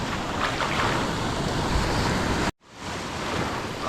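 Ocean surf washes against the shore during a shore-casting fishing trip in the Philippines, a loud continuous roar with wind buffeting the microphone, briefly cutting out before resuming.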